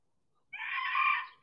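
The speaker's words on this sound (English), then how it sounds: "Rooster. That's a chicken." A rooster crows once at a distance, its call rising suddenly from quiet and holding for nearly a second before stopping, with no voices.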